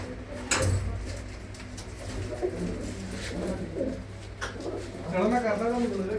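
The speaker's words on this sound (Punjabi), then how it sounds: "ਦੇਖੋ ਕਬੂਤਰੀ ਦਾ ਬਹੁਤ ਹੀ ਚੰਗੀ ਵਧੀਆ ਸ਼ਾਨਦਾਰ ਕਬੂਤਰੀ ਆ ਬਈ" Soft, low cooing from a female pigeon repeats close by, with a burst of throaty coos near the end and faint background noise throughout.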